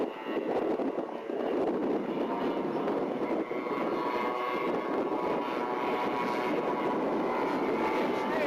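A continuous droning engine hum from a radio-controlled model B-17 Fortress flying on three engines, steady and moderately loud, passing at a middle distance with no pauses.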